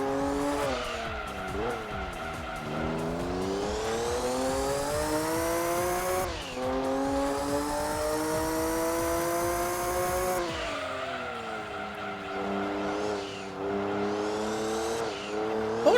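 A Porsche race car in Gran Turismo 2 roars continuously through a long endurance race, its engine pitch rising and falling with gear changes while tires squeal and skid through corners, loud and steady with no talk.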